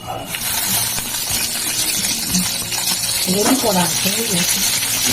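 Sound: dried red chilli added to hot oil, sizzling

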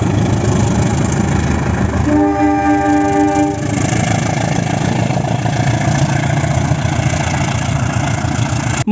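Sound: toy train, wooden CC201 locomotive

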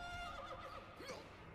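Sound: horse whinnying in Attack on Titan anime

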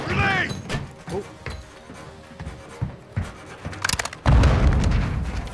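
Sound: grenade explosion in Call of Duty: Modern Warfare II video game

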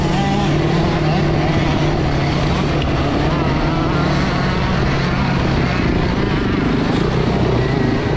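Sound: modified Yamaha Serow motorcycle engine running rough

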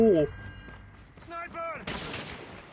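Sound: gunfire in Call of Duty video game

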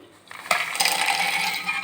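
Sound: peanuts poured into mixer jar

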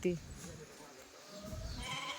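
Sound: sheep bleating

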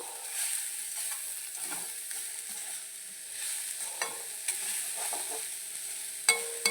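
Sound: stirring papad kondattam thoran in a pan

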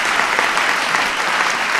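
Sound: applause at White House science fair

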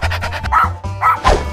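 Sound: dog barking

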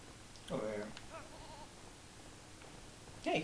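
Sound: sheep bleating in Lego Lord of the Rings video game

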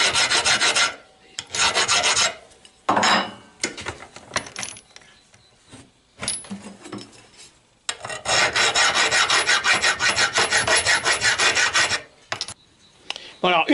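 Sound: filing chrome surface of car trunk handle in vise

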